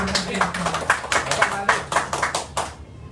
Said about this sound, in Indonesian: beri tepuk tangan dulu dong buat Pak Abdi